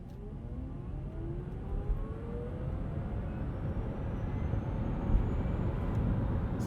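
A 2020 Chevy Bolt EV pulls away hard in sport mode with traction control off, giving a faint rising electric whine over a steady rumble of road and tire noise that builds gradually.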